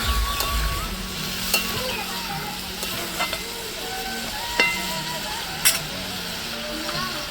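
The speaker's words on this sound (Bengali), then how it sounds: "আমার শাকটাকে একটু ভালো করে কষিয়ে নিতে হচ্ছে সবজির সাথে এবং মশলার সাথে" Spinach sautéed in a pan with vegetables and spices for a vegetarian village dish, a continuous sizzle under repeated scraping stirs of the spatula.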